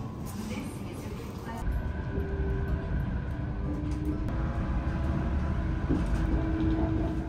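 Train ride in Chiba, Japan, heard from inside the carriage: a steady low rumble and rattle of the moving car, swelling slightly partway through, with faint tonal whines from the motors.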